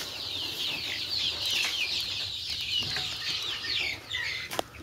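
Desi hens recovering from dysentery cluck and chatter steadily nearby, a continuous flock murmur with a sharp tap or flutter near the end.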